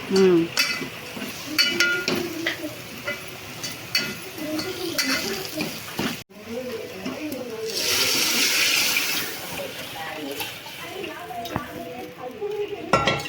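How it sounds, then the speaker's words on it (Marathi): Water is poured into raw ground masala frying in oil for biryani. Utensils clink and scrape, then a loud hissing splash and sizzle swells midway before easing back to stirring sounds. "नंतर मग ते अळणी पाणी टाकायचं ना"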